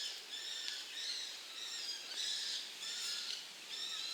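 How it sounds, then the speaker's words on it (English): Kestrels calling in rainy woods, a run of shrill, high repeated cries in short bursts, each lasting about half a second, at moderate distance over faint background hiss and without voices. "There's a bird there. Some kestrels"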